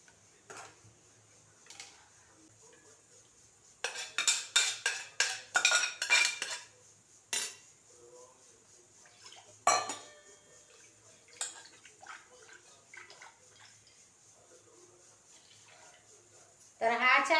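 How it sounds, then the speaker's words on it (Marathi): Cooked chakwat greens are mashed in a wok with a metal utensil, giving bursts of rapid clinking and scraping knocks between quieter stretches, with someone talking throughout. "आता ही भाजी आपण शिजवलेली घोटून घेऊया."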